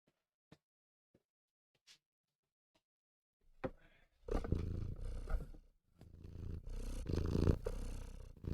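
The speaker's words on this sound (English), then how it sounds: "So much purr, yeah." A house cat purrs close to the microphone, a loud, rough, rumbling purr in long pulsing stretches after a few faint clicks and rustles.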